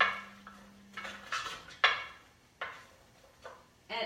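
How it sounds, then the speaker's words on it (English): Vegetables sautéing in a crock pot insert are stirred, giving irregular close clinks and scrapes of a utensil against the pot, about six distinct knocks over a few seconds. "So I'm just going to stir this around for a minute."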